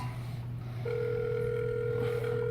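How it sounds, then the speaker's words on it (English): A phone calls a GPS tracking device and steady electronic ringing tones sound alone, clean and close, holding on for the whole stretch. "It's gonna ring twice. And it hangs up."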